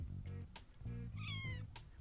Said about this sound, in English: We gotta say hello to our good little kitty cat.